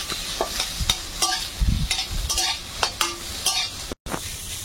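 Potato and crab filling stirred in a hot pan, sizzling with repeated sharp spatula scrapes and knocks at a regular rhythm, close and fairly loud, with a brief dropout near the end.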